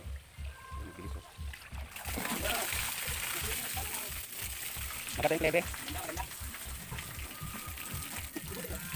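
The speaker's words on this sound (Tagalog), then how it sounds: "Tignan natin ngayon kung magaling agos ng tubig na natin" Water flowing along a concrete gutter, a continuous rushing wash beneath someone talking, with a rhythmic low thumping pulse throughout.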